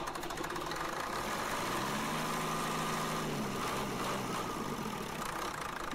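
An old diesel tractor in Farming Simulator 19, likely a Case IH 1255/1455 XL mod, cranks and fires up, its rumble rising in pitch then settling into a steady, loud knocking idle.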